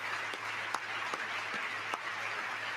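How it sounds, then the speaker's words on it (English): Scattered clapping from a few people in a large chamber during a presidential address to Congress, soft individual claps at an uneven rhythm over a steady wash of room noise and murmur, heard from a distance. "There's a couple of people clapping over there."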